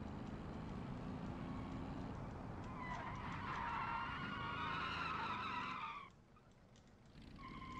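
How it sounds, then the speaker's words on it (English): Car drifting and skidding in the BeamNG.drive driving game, with long wavering tire squeals rising over a steady engine roar, loudest in the middle and dropping away briefly before resuming. "That was the worst drift I think I've ever seen, personally."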